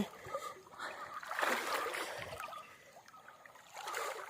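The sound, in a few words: flowing water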